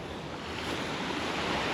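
Ocean waves wash onto a beach at Annotto Bay in St Mary, Jamaica, giving a dense, loud rush of surf with wind buffeting the microphone throughout, and no voices.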